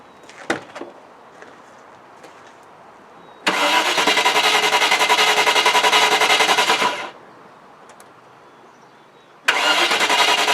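A Range Rover with a fuel pressure fault cranks and fires into a loud, steady engine roar for about three seconds, then abruptly cuts out; after a quiet pause it starts up loudly again.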